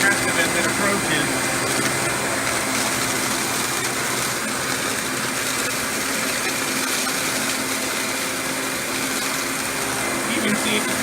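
An upright vacuum cleaner, a Panasonic Performance Plus or a Riccar 8955, runs at a steady, loud, broadband whine and roar throughout as it sucks up debris, with no break in the drone.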